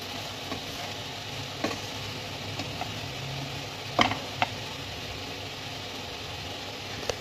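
Prawn pulao being stirred and mixed in a pot with the gas turned off, a steady low rustle with faint sizzle and a few soft clinks of the spoon against the pot, no talking.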